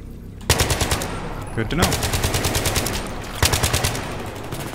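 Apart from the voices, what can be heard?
gunfire in the video game Battlefield 3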